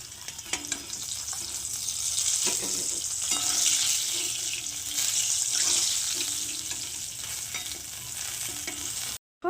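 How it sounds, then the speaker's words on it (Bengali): Fish sizzles as it fries in hot oil, a steady crackling hiss with soft clinks of stirring or handling and a gentle watery wash underneath, then a sudden stop at the end. "এদিকে দেখো মাছগুলো ভাজা হয়ে গেছে"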